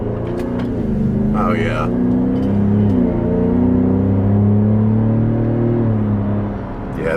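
A Ford F150 Raptor in sport mode with its fake exhaust sound disabled accelerates hard, a loud deep engine drone rising through the gears heard from inside the cab, with a brief spoken remark over it.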